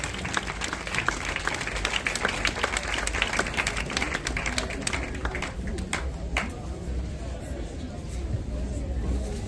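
A congregation at a funeral service for a man of God applauds loudly and steadily, dense clapping that fades toward the end, with voices murmuring underneath.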